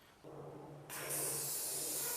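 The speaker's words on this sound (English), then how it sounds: "Whoa, that's a lot of spraying." A close spray paint can hisses in a steady burst while painting a skateboard, starting softly and then opening into a louder, brighter continuous spray.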